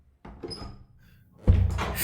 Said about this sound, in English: This is the cheap motel door for day 13.